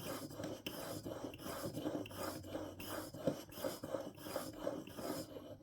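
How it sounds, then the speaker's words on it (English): An arrow broadhead being sharpened on a sharpener, a series of quiet, rhythmic rasping strokes, roughly two per second, close up with no talking. "See that polishing up nicely. Do a few more strokes on each side."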